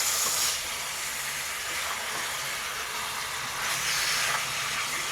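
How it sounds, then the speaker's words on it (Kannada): Marinated chicken frying on high flame in a pan, a loud continuous sizzle and hiss with slight surges near the start and end, no talking. "ಈಗ ಹೈ ಫ್ಲೇಮ್ನಲ್ಲಿ ಇಟ್ಕೊಂಡು ಚೆನ್ನಾಗಿ ಚಿಕನನ್ನು ಫ್ರೈ ಮಾಡ್ಕೊಳ್ಳಿ"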